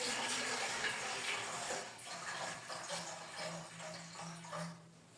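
About 1.5 to 2 litres of water pours steadily into a cooking pot for chicken corn soup, a continuous rushing splash that deepens in tone as the pot fills.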